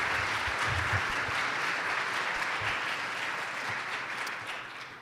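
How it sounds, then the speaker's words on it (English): A conference audience at a Safe Schools, Safe Communities event claps steadily in a dense, even round of applause that holds for several seconds before tapering slightly toward the end. "So let's give all these folks a big round of applause"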